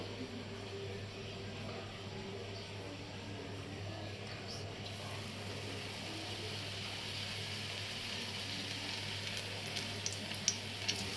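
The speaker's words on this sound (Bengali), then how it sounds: "এখন এগুলা তেলে ভাজবে" Coconut-and-jaggery-filled puli pitha dumplings frying in hot oil, a soft continuous sizzle with a faint steady hum beneath and a few brief sharper crackles near the end, low in level.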